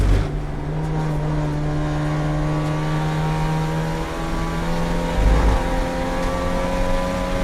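A race car engine at full throttle down a straight during a GLTC race at COTA, heard as a loud, steady in-car drone of rising engine tones with a brief gear-change dip near the end.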